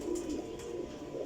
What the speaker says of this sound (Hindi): लो जनाब टैडी कबूतर